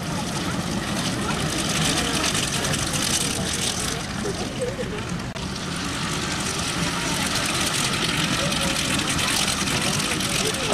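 Engines of a vintage Junkers Ju 52 at an air display, a steady loud droning rumble throughout, with a voice speaking over it.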